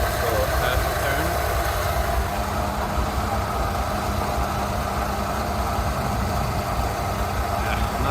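A Rolls Royce Silver Shadow engine idles steadily during carburettor tuning, a continuous, fairly loud mechanical hum with an even low rumble that holds throughout, with someone talking over it.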